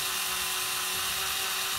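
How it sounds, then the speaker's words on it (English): Drill with a wet sandpaper attachment polishing a glass stove top, a steady high-pitched whine with grinding texture, loud and continuous without pause. "Let the drill do the work."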